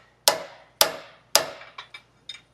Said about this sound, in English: I'm just going to give it a couple taps with the hammer